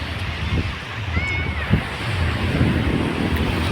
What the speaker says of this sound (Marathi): पाणी बघू शकता की ते मोठ्या प्रमाणात आहे लाटा वगैरे उचलत आहेत